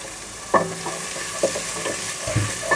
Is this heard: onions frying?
yes